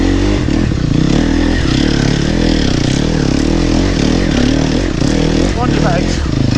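A dirt bike engine revving and labouring uphill on an enduro trail in spring, close and loud with continuous throttle changes and some clattering, while a voice talks over it.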